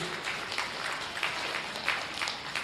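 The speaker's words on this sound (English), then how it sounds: "Let's give Will Staples a nice round of applause," Audience applause at a county fair goat show, a steady wash of many hands clapping at moderate distance, continuous for a couple of seconds without talk.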